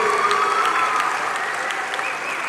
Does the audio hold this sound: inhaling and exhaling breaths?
no